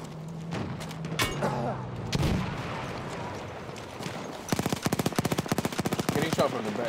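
Gunfire in the video game Battlefield 1, with scattered single shots and bursts, then a fast, loud machine-gun rattle over the last couple of seconds, amid battle noise and a few distant booms.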